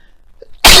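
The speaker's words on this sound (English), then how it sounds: "I just felt that sneeze come on" A single loud, sharp sneeze bursts out abruptly after a brief quiet moment, close to the listener.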